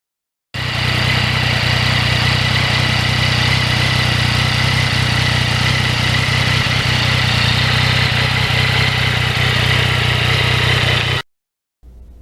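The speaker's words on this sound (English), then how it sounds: "Now that muffler sounds good" A 2020 Yamaha MT-09 motorcycle engine rumbles steadily through its muffler, loud and close, a sustained even drone that cuts off abruptly near the end.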